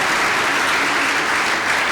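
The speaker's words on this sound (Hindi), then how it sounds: "तो एक बार फिर भरपूर तालियां आप सबों की होनी चाहिए।" A church congregation applauds, a dense, loud, continuous wash of clapping from many hands throughout.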